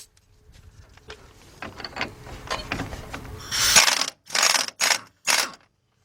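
A 21mm socket on a ratchet works the inner tie rod nut on a Ford Explorer front end with quick mechanical clicks and rattles, then several short, loud, harsh bursts near the end.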